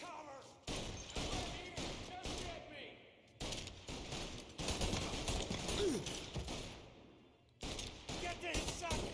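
Bursts of rapid gunfire in a Mafia bank-robbery shootout, loud volleys broken by short gaps and shouted voices.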